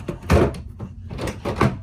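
A cabin drawer aboard a Sky Princess cruise ship being pulled open, a couple of dull wooden knocks and slides close by, the second coming after a brief sticking pause.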